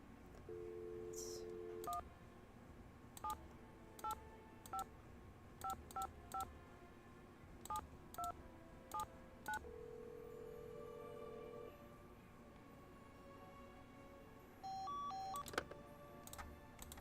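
Telephone dialing in the Nancy Drew: Secret of the Scarlet Hand video game, a series of short keypad tones pressed one at a time with pauses between them, followed by a longer sustained tone and a few more beeps.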